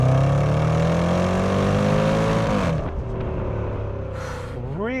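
Range Rover Sport SVR accelerating hard from a roll in second gear, a loud close engine note rising steadily in pitch, then a shift and a renewed climb near the end.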